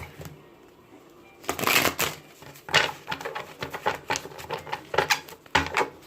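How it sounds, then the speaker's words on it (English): A deck of cards riffled and shuffled several times in quick bursts, crisp flapping and clicking, close and fairly loud, with brief pauses between shuffles. "it's gonna be a little loud while I shuffle"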